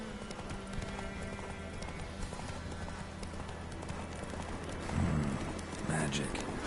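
A horse gallops in the video game Witcher 3, its rapid, rhythmic hoofbeats steady and close, with a faint rain-like patter and ambient game sound beneath, plus a brief snort-like burst near the end.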